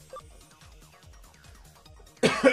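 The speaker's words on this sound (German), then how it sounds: "Meine Güte, mein Husten, der nervt." A single loud cough bursts out near the end, following quiet background game music and sounds.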